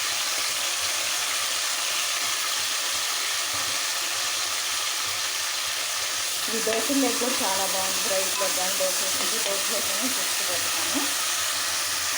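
Spices such as mustard seeds, cumin, curry leaves and whole spices hitting hot oil for a chicken curry, giving a steady hiss that breaks into brighter crackling sizzle and popping midway, fairly close.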